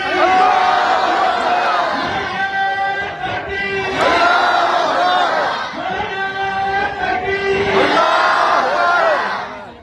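A large rally crowd roars back in unison to the Takbir slogan, with three long swelling waves of loud massed chanting and cheering.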